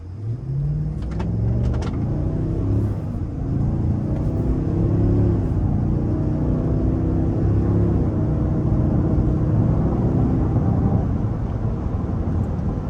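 A 2025 Cadillac Escalade Premium Luxury accelerates onto the interstate from inside the cabin, its engine note rising in a steady, deep rumbling climb under road noise, loud and continuous with no talk.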